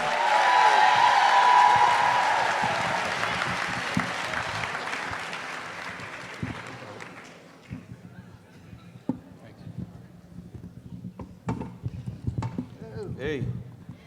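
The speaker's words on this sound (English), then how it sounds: "Give him a round of applause, guys." An audience at a Martha's Vineyard event applauds actor John David Washington, with loud, dense clapping and cheers that gradually thin out into scattered claps and murmurs, and some talk over the later part.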